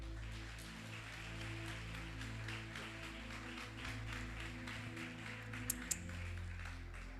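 A church congregation applauds a speaker as he comes forward, a steady wash of clapping held under sustained keyboard music, with a couple of sharp louder claps near the end.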